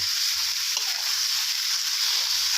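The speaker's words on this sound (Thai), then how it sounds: "เอาตะหลิวนะครับ ค่อยๆบี้นะครับค่อยๆผัดลงไปนะครับ ให้เนื้อหมู คลุกเคล้ากับพริกให้ละเอียดนะครับผม" Minced pork and dried chili stir-fried in a hot pan with a spatula give off a loud, continuous, dense sizzle that holds evenly from start to finish.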